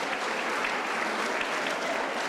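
Audience applause at a school reunion: steady, dense clapping from a crowd, fairly close and sustained throughout without any talking over it.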